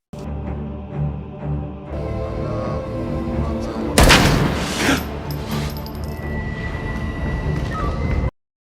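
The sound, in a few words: gunfire in a film shootout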